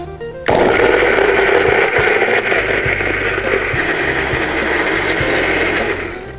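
A blender grinds a spice paste with oil, starting abruptly after a brief pause and then whirring loudly and continuously with a harsh, steady buzz and occasional knocks, with no voices.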